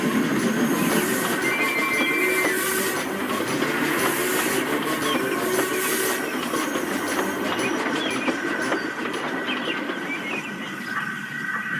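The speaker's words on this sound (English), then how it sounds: "Murdoch shrieked through with a heavy goods train" A heavy goods train hauled by the engine Murdoch roars past close by, a continuous dense rumble of wheels and wagons with a shrill whistle tone running through it, steady and loud throughout.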